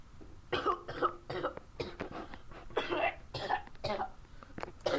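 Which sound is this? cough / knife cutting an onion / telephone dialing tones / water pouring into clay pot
cough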